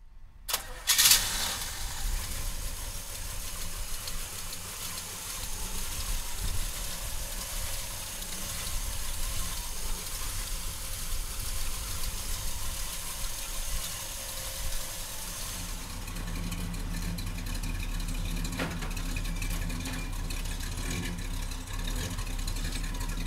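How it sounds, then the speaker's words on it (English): A 1967 Chevrolet Chevelle with a 327 V8 cranks and catches in a loud burst at the start, then settles into a steady, rumbling idle that runs on close by for the remainder, with no talking over it. "So come on up and we'll fire it up for you right now."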